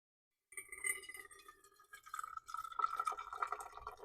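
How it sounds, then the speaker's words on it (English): Boiled kettle water poured over coffee grounds in an RV kitchen, a steady liquid stream with dripping and trickling into the brewer, building in loudness after a brief silent start. "So the water boiled, the kettle turned off automatically, and I'm going to pour water in."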